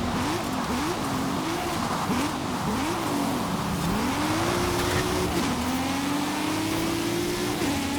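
Racing cars in wet weather in Forza Horizon 5 during a championship race, engines revving and whining up and down through gear changes, with a steady wash of road and spray noise throughout.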